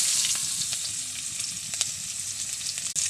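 Chopped onion sizzles in oil left over from frying fish, along with dry red chillies and five-spice seeds: a steady, close, dense crackle running unbroken throughout, with a few sharper pops.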